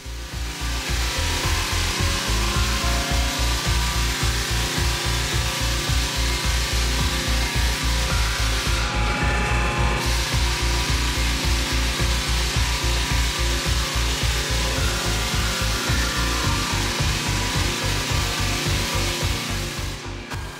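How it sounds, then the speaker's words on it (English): A rented drum sander grinds across wood flooring, a loud, continuous rumbling roar with a steady pulsing beat that lasts the whole twenty seconds, close by and with no voices. "I just rent a drum sander from Home Depot, and this is what I use to sand the bulk of the flooring."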